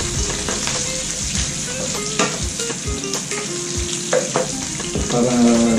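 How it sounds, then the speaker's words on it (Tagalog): Ginger sizzles and fries in a hot pan for pork and mung bean stew, a steady close crackling hiss with a few stirring scrapes and no talk. "Nilagay yung luya. Dahil ayaw kong masunog yung luya."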